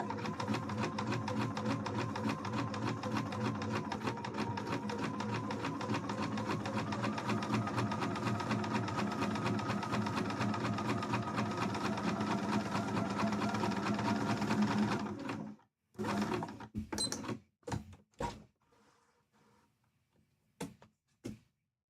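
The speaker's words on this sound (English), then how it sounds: "And then we will sew these in." A sewing machine stitches pieces of a Link cosplay from Twilight Princess, a steady close motor whir running for about fifteen seconds, then a few short bursts and clicks before stopping.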